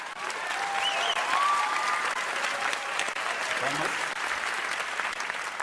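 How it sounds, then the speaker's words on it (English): Steady applause from a stand-up comedy audience at a Broadway special, sustained and moderately loud throughout, with scattered cheers and a brief whistle rising above the clapping. "Applause break number 2."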